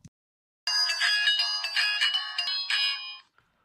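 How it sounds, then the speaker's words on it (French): A PTHTECHUS 4G GPS smartwatch plays its power-on jingle, a bright electronic melody of chiming tones lasting about two and a half seconds after a brief click, clear and close with no talking. "vous allez voir au premier démarrage, on a une petite musique"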